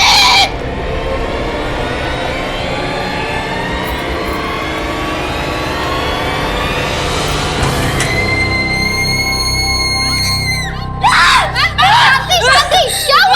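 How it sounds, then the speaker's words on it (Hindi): A woman screams in a horror drama, one long shrill cry that rises and breaks into frantic, wavering shrieks near the end, loud and close. "आप इतना चीख क्यों रही थी?"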